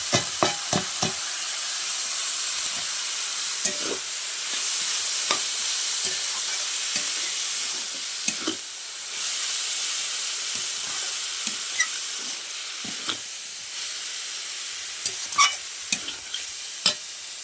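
Cabbage tipped into spiced masala and stir-fried in a pan, a constant frying hiss under frequent sharp spatula scrapes and taps against the metal, close and steady.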